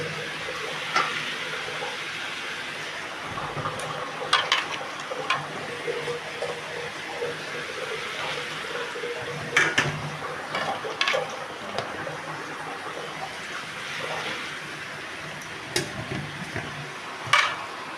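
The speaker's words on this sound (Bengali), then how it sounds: "মাছটা ভেজে দিয়ে দিলাম।" Fish sizzling steadily in a pan of hot oil as it fries, a continuous crackling hiss with scattered sharp pops and the occasional scrape of stirring, fairly close and heard with no talking.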